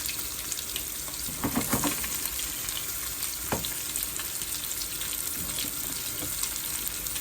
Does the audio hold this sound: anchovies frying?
yes